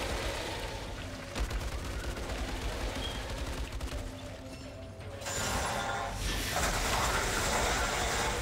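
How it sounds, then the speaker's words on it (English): Rapid automatic assault rifle fire from an Outriders video game firefight, a dense sustained rattle of shots that carries loud and continuous, swelling louder in the final seconds. "I had to switch back to my assault rifle."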